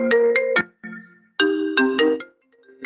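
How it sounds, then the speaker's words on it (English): A mobile phone on do-not-disturb rings with an incoming call, a loud melodic ringtone repeating in short bursts of bright stacked notes with brief gaps between phrases. "Phone on do not disturb, and I still got a call."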